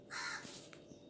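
A crow gives a single harsh caw at moderate distance, brief and faint over quiet indoor room tone.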